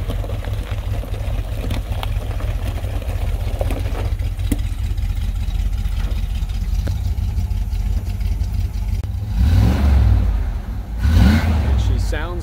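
An old International Harvester Trailduster truck engine idles with a low rumble, then revs up twice near the end, loud and close, with voices talking over it.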